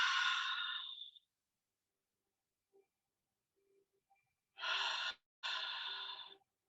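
Slow breaths during a calm yin yoga session, close and quiet: a long exhale, a pause with faint small noises, then two more drawn-out breaths.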